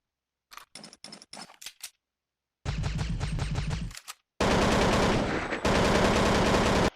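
Gunfire from a Source-engine shooter video game: a few short separate shots, then a sustained burst of rapid automatic fire, a brief gap, and two long loud bursts of continuous automatic fire, close and alone.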